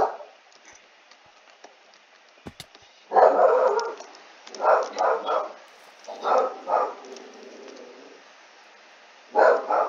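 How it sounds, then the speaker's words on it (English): Dogs barking in several bursts of loud, close barks and yips, separated by quieter gaps, with no speech over them. "Oh, my dogs are barking now."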